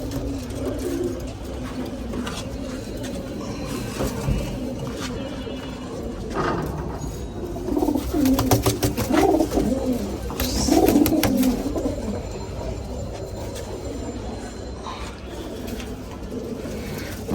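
A flock of pigeons coos repeatedly while settling into the loft, layered burbling calls rising and falling with wingbeats and rustling, fairly close, without speech.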